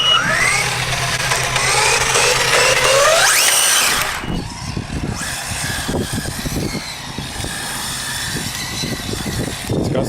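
A high-speed RC car, the GT model, whines loudly as its electric motor revs up through a rising pitch, then drops into a rougher buzzing drive with rapid throttle pulses and gravelly rattling as it runs about.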